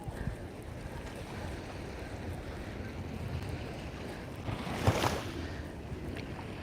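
Sea waves wash ashore at Magaluf, Mallorca, a steady broadband rush with wind buffeting the microphone and one louder surge breaking near the end.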